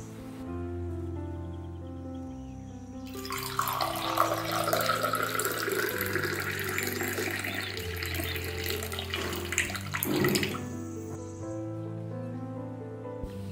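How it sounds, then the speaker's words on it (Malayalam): Curry leaf drink is poured into a glass in a steady, bright splashing stream lasting several seconds, close and clear, tapering off at the end over a quiet background hum. "ഇനി ഇതൊരു ഗ്ലാസ്സിലേക്ക് ഒഴിക്കാം."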